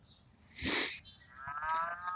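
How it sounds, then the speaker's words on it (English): A single cow moos once, long and fairly loud, with a lower drawn-out call trailing after it in an otherwise quiet outdoor setting. "And you'd hear the cow complain."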